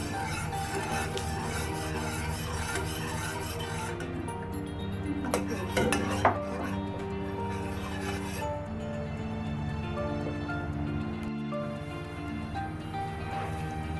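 A utensil stirs plain agar and water in a pot heading toward a boil, producing soft scraping and intermittent metallic clinks, with a burst of clatter midway and steady background hum throughout.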